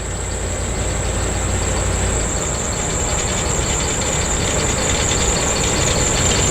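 A Ford Econoline Club Wagon van engine revs steadily with its doghouse cover removed, loud and close with a constant roar and a high whine on top, no voices.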